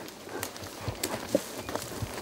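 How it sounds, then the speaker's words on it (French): A horse walks slowly during dressage training, its hooves landing in soft, irregular clip-clop steps close by over a quiet background. "Dès que le cheval avance doucement"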